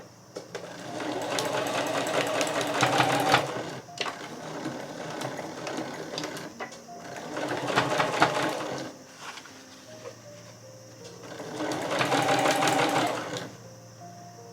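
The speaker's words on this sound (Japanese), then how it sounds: "そしたらタックのところは返し縫いをします。" A sewing machine back-stitches the tuck on a fabric pouch, running in three bursts of rapid mechanical chatter separated by short pauses. It is close, with no speech.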